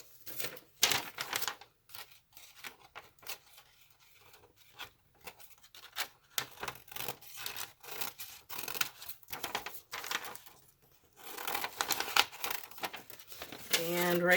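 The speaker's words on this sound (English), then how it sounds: "So just going to use a piece of Tyvek and probably going to cut this right in half" Tyvek sheet being cut in half with scissors, a run of crisp snipping and crinkling bursts with pauses between, close and fairly loud, growing busier toward the end.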